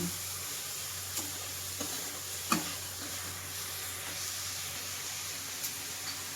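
Ginger and garlic paste sizzling in a hot frying pan during home cooking, a steady soft frying hiss with a few light clinks and stirring taps.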